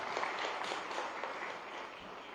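Applause from an audience at a state government MoU signing event in Gujarat, a steady wash of clapping, faint and somewhat distant, lasting a couple of seconds with no talk over it.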